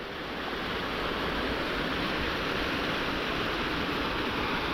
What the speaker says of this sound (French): c'est pour montrer la cascade là-bas